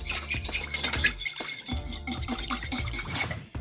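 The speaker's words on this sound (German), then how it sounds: "Und das wird jetzt schön verquirlt." A whisk or utensil beats a freshly ground spice marinade for potato salad in a bowl, producing quick, close, rhythmic metallic clinks and scraping taps that run continuously.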